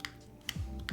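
Typing on a TG67 mechanical keyboard, a few crisp clacks with a gap between them, close and fairly quiet, with no talking.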